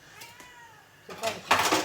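A house cat in a kitchen while cabbage soup cooks, giving a couple of close, loud meows near the end after a quieter stretch of background noise.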